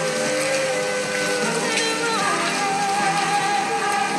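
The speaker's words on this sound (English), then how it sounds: "It's still raining." Steady rain falls continuously, a dense even hiss close by with faint tonal background sounds mixed in.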